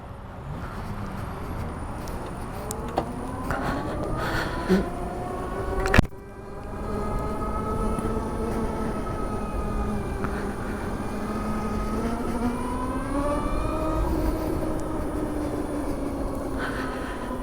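Harley-Davidson LiveWire electric motorcycle starting up and riding off, its electric whine rising and gliding in pitch as it speeds up and slows, steady and close after a brief thump at the start, with no talk.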